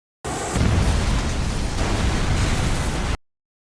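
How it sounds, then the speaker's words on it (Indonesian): A sustained, loud rumbling blast with a sharp onset, roaring broadly for about three seconds before cutting off abruptly. "Sayangnya momen itu terganggu oleh sebuah ledakan di luar"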